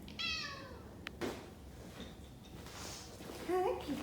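A cat meows several times, with a high rising call at the start and another near the end, close by in a quiet room with light background noise.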